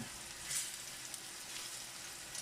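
Plantain fries in a cast iron pot, giving a faint, steady sizzle and crackle with a few brief louder pops.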